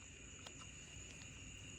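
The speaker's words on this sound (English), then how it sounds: "No, them are cicadas." Cicadas droning outdoors, a faint steady high-pitched buzz holding constant throughout with a couple of brief soft ticks, distant and quiet.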